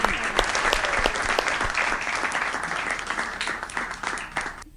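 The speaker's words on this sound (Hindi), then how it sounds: "यहाँ से लेकर और वहां तक हाथ उठाकर बजाओ ताली" Audience at a Hindi comic poetry gathering (hasya kavi sammelan) claps steadily and loudly, a dense wash of applause filling the whole stretch without pause.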